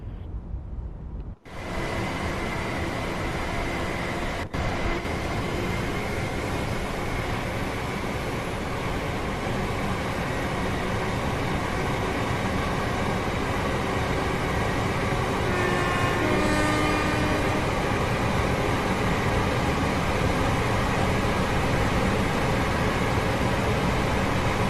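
Class 805 Evero train running in Train Sim World 6, a steady broadband rumble of wheels and traction that holds loud and even throughout, with faint tonal whines near the end.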